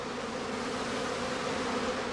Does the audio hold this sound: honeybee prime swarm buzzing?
yes